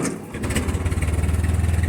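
An old tractor engine cranks and catches, settling into a loud, rapid, rhythmic chugging idle close by.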